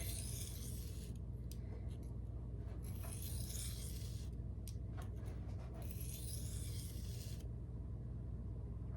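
Light sharpening strokes on an Elmax steel SPK Shark knife make quiet, raspy scraping passes in two short runs over a low steady background hum, close up with no speech.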